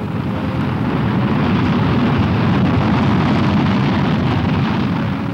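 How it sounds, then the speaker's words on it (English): An Army Corporal surface-to-surface guided missile launches, a loud, dense roar of rocket thrust that holds steady and unbroken throughout, with no voices. "This is the Army's Corporal, the nation's first operational surface-to-surface guided missile."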